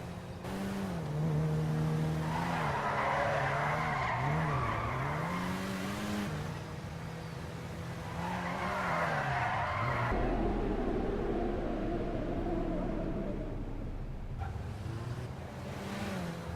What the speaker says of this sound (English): Their latest one was this luxury four-door sedan, the Oracle